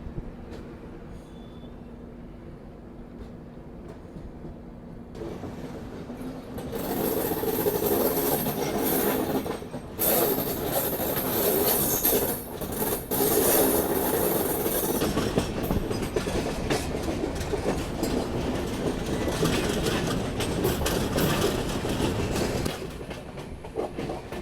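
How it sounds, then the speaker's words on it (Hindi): A passenger train in rural Maharashtra runs with its locomotive close by, starting as a quieter rumble and then swelling into loud, steady rolling noise with rattling wheels and clatter. "तो अब लोकोमोटिव बिल्कुल करीब है अपने से"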